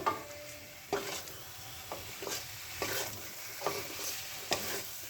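A cauliflower, potato and rohu fish curry is stirred in a frying pan: a soft, steady sizzle with a spoon scraping the pan at regular intervals, about once a second, close and alone.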